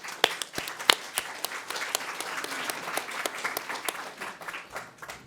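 An audience claps after a conference presentation at a forum parallel session, the applause starting with a few sharp, separate claps and settling into moderate, steady clapping that tapers off.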